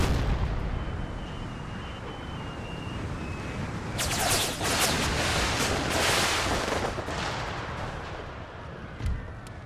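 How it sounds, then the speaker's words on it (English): Howitzer artillery fire on a battlefield in an Empire: Total War historical mod, a steady roar of distant gunfire and explosions that swells into a denser barrage of booming shots midway, with a sharp burst near the end. "All howitzers, fire on those cannons."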